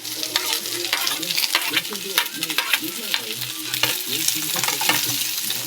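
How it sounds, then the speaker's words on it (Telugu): Eggs fry in a pan with curry leaves and coriander, a steady sizzle broken by frequent scraping and stirring strokes, close and fairly loud with no talk. "ఇవన్నీ ఎగ్గు వేయించుకున్నాను"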